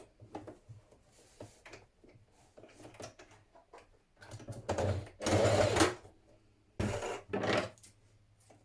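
A sewing machine stitches around the neckline of a dress bodice in bursts, with two louder runs near the end separated by quieter handling clatter.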